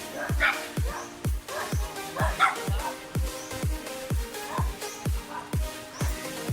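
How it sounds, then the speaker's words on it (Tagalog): Many dogs bark at the start of a hiking trail, a steady run of sharp, close barks and yips coming roughly every half second, with some whimpering and background voices mixed in. "Daming aso."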